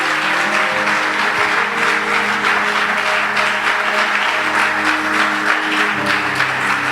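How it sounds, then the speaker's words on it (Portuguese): A congregation applauds loudly during a Portuguese-language church service, sustained dense clapping that fills the room for several seconds, with a held musical tone underneath. "Aplauso para Deus em nome de Jesus."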